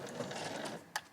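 A sewing machine stitches a fabric pouch, backstitching over its first stitches. It gives a quiet, steady mechanical whir, with a sharp click near the end and no talk.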